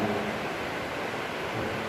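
Steady heavy rain pours during an evening gathering, forming a dense, even roar with a low thunder rumble underneath, unbroken throughout and without any voices.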